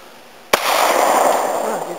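A single sharp report from a Smith & Wesson 99 pistol fired at an outdoor shoot cracks out once, followed by a long decaying rumble of echo and hiss; a voice is faintly present.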